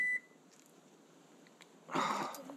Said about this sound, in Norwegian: Setter du ikke på deg selene, så piper det.